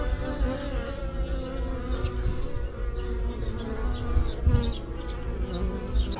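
A dense swarm of honey bees buzzes steadily around a hive, a loud, close, continuous drone with individual bees passing near, and no talking.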